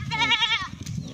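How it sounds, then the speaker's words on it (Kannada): A single goat gives a loud, close, wavering bleat lasting about half a second, followed by quieter background noise and faint shuffling from the farm pen. "ಇದರೊಳಗೆ ನೋಡ್ರಿ ಹೊಂತ ಆಡುಗಳು ಚಲೋ ವೆರೈಟೀಸ್ ಇದಾವೆ ರೀ"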